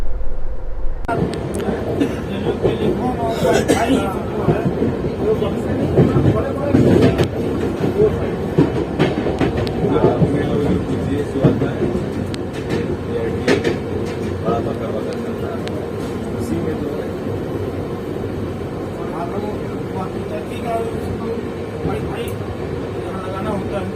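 Himgiri Express double-decker passenger train running, a steady loud rumble of wheels and carriage noise with rhythmic clatter throughout, with voices talking over it.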